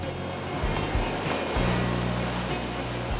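Ocean waves wash on the coast as a steady, broad roar with gentle swells, heard alone at moderate volume and mixed with a low rumble that may be wind.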